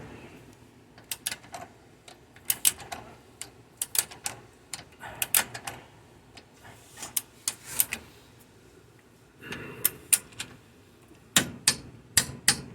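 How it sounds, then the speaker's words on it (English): A torque wrench tightens a lower control arm bolt to 59 foot-pounds on a 2011 Mercedes GLK 4Matic X204, giving close, sharp ratcheting clicks in irregular bursts with short pauses between them and no talking. "first I'll do the 59 foot-pounds. I'll let the wrench twist around and capture itself there."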